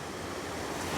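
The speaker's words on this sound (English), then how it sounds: "a shot of the lower waterfall, which is in a kind of basin at the foot of the falls" Lower waterfall pouring into a rocky basin at the foot of the falls, heard as a steady, dense broadband roar of rushing water that stays even throughout, close and moderately loud, with no voices.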